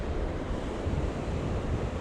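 Rough sea surf crashing along a rocky shore at Puerto del Carmen, Lanzarote, on a windy morning, a steady broadband roar of waves mixed with wind buffeting the microphone, loud and continuous with no voices.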